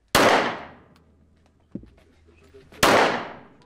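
Two loud, sharp gunshots ring out a few seconds apart at a shooting range during a shooting competition in Mytishchi, Russia, each with a decaying echo, and a faint clatter in between.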